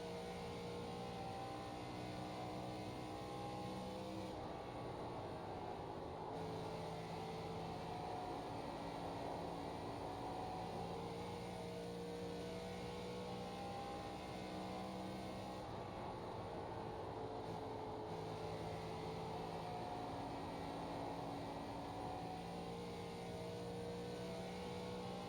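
An ARCA race car engine drones at Dover in the iRacing simulator, a continuous heard-from-the-cockpit roar with strong tonal harmonics whose pitch shifts slightly as it runs on without a break.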